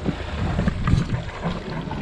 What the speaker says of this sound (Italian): Abbiamo appena acceso motore.